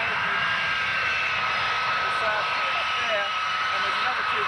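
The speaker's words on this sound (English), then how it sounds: "we've got a few Harriers lined up here for takeoff" Several Harrier GR3 jump jets of an RAF squadron lined up for takeoff at Gutersloh airbase, their engines giving a steady, continuous roar and whine with no break throughout.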